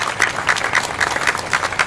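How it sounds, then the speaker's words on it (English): Brief applause at a Philadelphia mayoral press event on bike safety, heard as a short run of evenly spaced claps in a steady rhythm. "Now that's worth giving that a round of applause."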